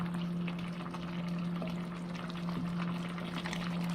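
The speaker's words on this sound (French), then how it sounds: "Ça y est, ça revient à ébullition." Continuous bubbling and low hiss of a pot of coq au vin coming back to a rolling boil on a hob, with a steady hum underneath, close and moderately loud throughout.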